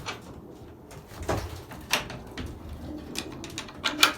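Belgian racing pigeons in a loft give scattered soft coos and brief calls, with a few sharper bursts near the end over quiet background noise.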